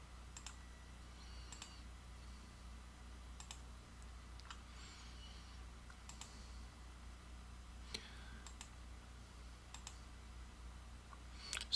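Computer mouse double-clicking while flow paths are drawn in HEC-RAS, quiet paired clicks repeating at irregular intervals over a faint steady hum in a quiet room.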